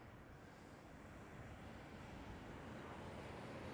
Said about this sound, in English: Right here, KLM Cityhopper E175